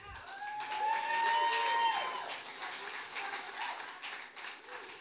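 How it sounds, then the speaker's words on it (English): An audience at a Davos 2019 blockchain event bursts into sustained applause, a dense wash of clapping that swells and then gradually fades, mixed with faint crowd noise and some speech. "Dennis, next time you have to insert applause"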